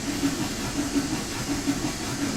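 Union Pacific 844 steam locomotive hissing steadily in a video game, a continuous broadband steam rush with a low rumbling engine pulse underneath, no voices.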